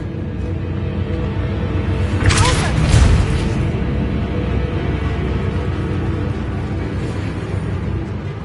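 A Bombarda explosion spell in Hogwarts Legacy bursts once midway, a brief crackling blast with a low thump, set over a steady loud rumble of game ambience.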